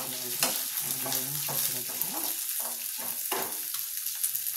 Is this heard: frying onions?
yes